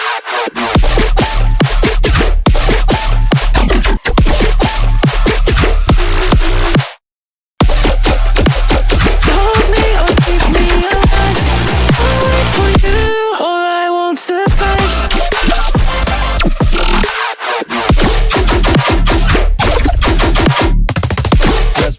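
Electronic music drop with SpecComp spectral compression enabled plays loud and dense, punchy beats and thick bass held at an even level, with a few brief dropouts and a thinner melodic break partway through.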